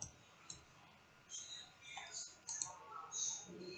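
Computer keyboard typing comes up close in short, quiet bursts of clicks with gaps between them, over a low room hiss.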